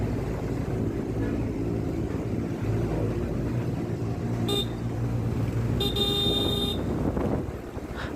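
A motorbike rides along a narrow, winding road behind another vehicle, with a steady engine and wind roar throughout and a short horn blast sounding twice near the end.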